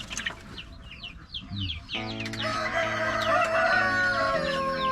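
Light Sussex chickens in a farm pen, with a rooster crowing and hens clucking close by, the calls growing louder and more layered after the first couple of seconds.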